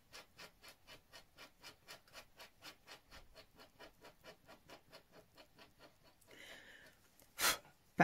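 Rhythmic scraping of a blade over dry pigment on a drawing of a chestnut stallion's neck and muzzle, about twenty quick even strokes close up, then a brief rougher rub and a sharp loud scrape near the end.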